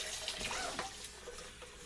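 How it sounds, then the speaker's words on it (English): Tap water runs and splashes while salt is rinsed from a brine shrimp hatchery setup, a steady close hiss of flowing water with small spattering bursts and no speech. "Now I'm going to rinse this off here a little bit."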